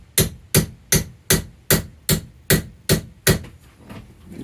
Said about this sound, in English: get you a little hammer or something.